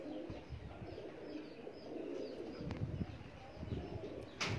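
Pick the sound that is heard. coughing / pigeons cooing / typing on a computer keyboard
pigeons cooing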